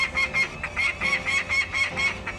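Angry peregrine falcons call repeatedly at their nest, a rapid series of harsh, evenly spaced cackling cries close by, with no pause between calls.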